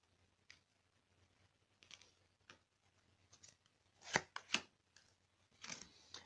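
Tarot cards being cut and handled on a table, giving soft papery riffles and a few sharper slaps and snaps, quiet and close with pauses between bursts.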